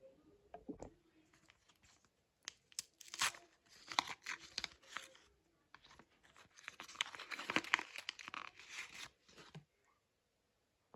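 Plastic packet for a Hello Kitty toy tears open indoors, with bursts of crinkling, ripping and crunching, some brief, some sustained, close by and fairly quiet, with no one talking.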